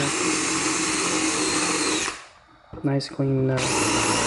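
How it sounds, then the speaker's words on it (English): A power drill whines at full speed as a multi-step drill bit bores through material, stops briefly with a few clicks and a short rev, then spins up again. "Now I have this set up with my multi-step drill bit."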